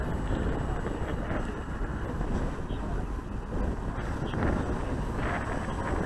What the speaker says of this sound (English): That's what the wind's doing.